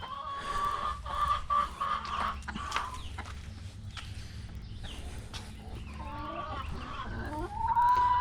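Hens clucking inside a farm coop, a busy chorus of overlapping clucks and squawks close by, with occasional louder calls rising over steady low background noise.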